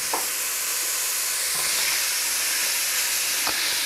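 Chopped onions, about one and a half cups, sizzle and fry steadily in a pot while being started for a Lake Erie walleye chowder, a constant hissing crackle with a few soft clinks of a utensil against the pot.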